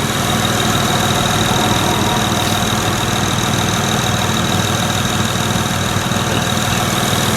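A 7th-generation JDM Honda Accord V6 idles steadily, a constant mid-pitched engine hum and vibration with no voices over it.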